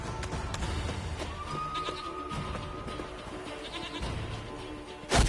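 A goat in The Witcher 3: Wild Hunt gives a single short bleat partway through, heard within busy game ambience and background noise, with a sharp loud burst near the end.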